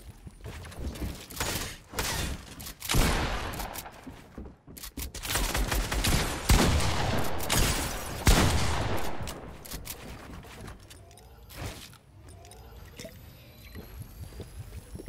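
Gunfire in the Fortnite video game, bursts of rapid shots and scattered single reports come and go over several seconds, with some louder volleys in the middle.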